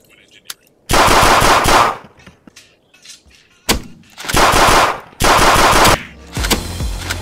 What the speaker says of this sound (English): Oh fuck, I'm getting shot at.